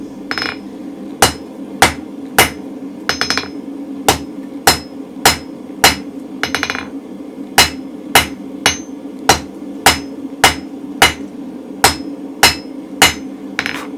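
A blacksmith's hammer strikes hot steel on an anvil, forging an octagonal striking end on a round punch: about twenty sharp, ringing blows in a steady, evenly spaced rhythm, close and loud with no talk.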